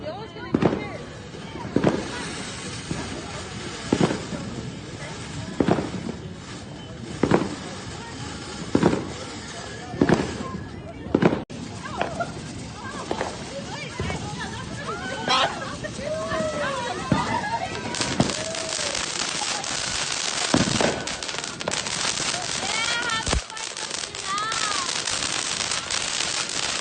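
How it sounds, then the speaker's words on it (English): Fourth of July fireworks go off in a steady run of evenly spaced booms, then give way to dense crackling and rapid popping bursts, heard from a moderate distance with faint voices in between. "So we're just enjoying the fireworks for the 4th of July"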